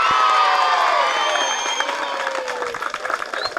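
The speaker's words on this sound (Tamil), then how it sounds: "அதில் சுவாதிக்கு இப்போ கொடுங்க ஒரு பலத்த கைத்தட்டல்." An audience at a college of education applauds loudly after a student performance of the Kannaki story, with cheers and whoops mixed in as the clapping slowly thins out toward the end.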